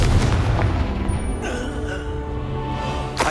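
A Confringo blasting spell in Hogwarts Legacy goes off as a loud, booming explosion up close, then rumbles and rings away into a lingering tail, with no voices.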